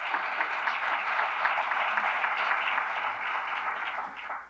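Audience at the 2025 Bold for Blue Awards ceremony applauding individual donors, a dense, steady wash of clapping from many hands that holds evenly before tapering off at the end.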